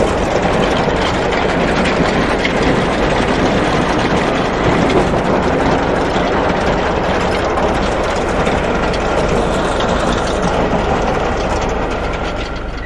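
A tractor's PTO drives hay-cutting equipment, a loud, continuous clattering mechanical whir with ratcheting gear noise over a low engine drone, steady from start to end with no voices.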